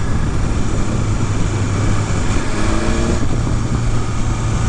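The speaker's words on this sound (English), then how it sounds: "And a fantastic burble on the back end" A 2022 BMW S1000RR superbike runs loud and close, its exhaust a steady low rumble with wind rush over it, and a brief rising burble near the middle, with no voices.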